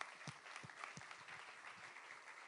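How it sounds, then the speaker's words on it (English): Audience applause for panelists at an international conference in France on a two-state solution for Israel, a faint, distant wash of clapping in a large hall with a few louder claps near the start, steady throughout. "please join me in a round of applause for our panelists"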